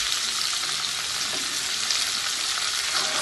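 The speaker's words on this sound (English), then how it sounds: "Put this vegetable in here, and you want to kind of fry them up" Sliced vegetables for escovitch fish frying in a pan, a steady close sizzle and crackle that holds evenly throughout with no talking.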